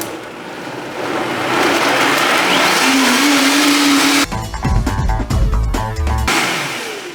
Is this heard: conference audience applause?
no